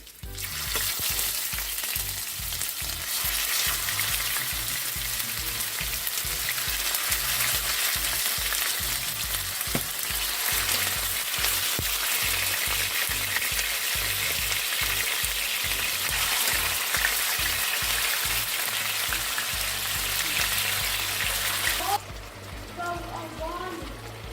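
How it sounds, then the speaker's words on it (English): Loud, continuous sizzling of pork frying in hot oil, crackling steadily up close, cutting off abruptly near the end to a quieter background. "I'm just gonna go ahead and fry the pork for a couple of minutes"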